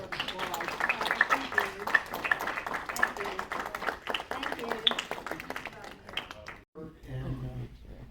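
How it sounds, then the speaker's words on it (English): Audience at a community Rotary gathering applauding, steady overlapping claps fairly close for about six seconds, then stopping as a voice begins talking. "I want us to give her applause"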